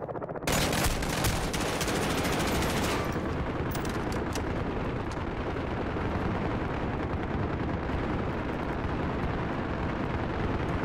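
Machine gun fire in Call of Duty: Modern Warfare, a dense sustained roar of rapid gunshots and blasts, loudest at the start and then a continuous heavy barrage with no talk.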